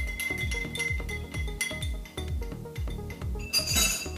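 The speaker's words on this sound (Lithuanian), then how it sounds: "Dabar viską pamaišome." A spoon stirs an Old Fashioned cocktail in a glass, a rapid, steady series of bright clinks against the glass, close and clear, ending with a louder rattle.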